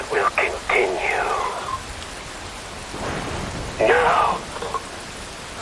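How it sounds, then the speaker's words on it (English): Steady, dense rain pours in Metal Gear Rising: Revengeance, a loud wash of hiss with low thunder-like rumbles, while a voice speaks briefly over it. "Wind blows. Rain falls."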